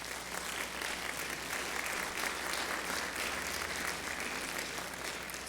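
A church congregation applauds during a sermon, a continuous wash of many people clapping that holds at a steady level from start to finish, heard without speech over it.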